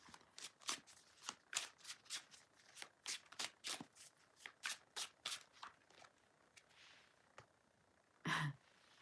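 Tarot cards shuffled close up in a quiet room, a string of crisp riffling bursts in an irregular rhythm, followed by a pause and one louder rustle near the end.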